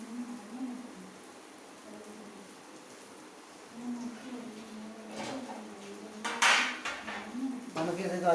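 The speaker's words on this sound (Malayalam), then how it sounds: "നമുക്കിത് കുറച്ച് നേരം ഇങ്ങനെ ഇളക്കാം." Vegetables and chilli being stirred in a cooking pan, with scraping and clattering of a utensil against metal, mostly soft and steady, with louder clanks near the end; no speech.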